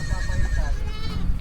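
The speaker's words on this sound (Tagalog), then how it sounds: "May kambing" A goat bleats near a waterfall trail in Abra, its wavering cries heard close over low rumbling background noise and faint voices.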